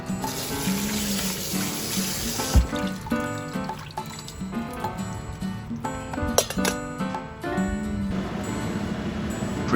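Tap water runs steadily into a bowl to soak diced fresh bean curd sheet and seaweed for soup and then drain them, with a continuous splashing flow under steady background tones.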